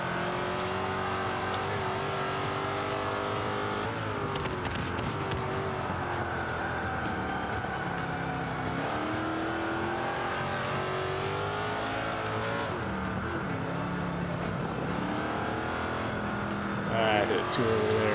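Range Rover engine in Forza 5 holds a steady droning roar on the Indy GP circuit, rising and falling with throttle through turns, loud and continuous with someone talking over it.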